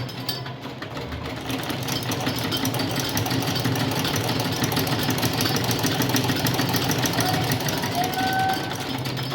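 A sewing machine runs steadily while stitching a trouser hem, a continuous close mechanical whir with a fast rhythmic needle chatter that holds at an even level throughout.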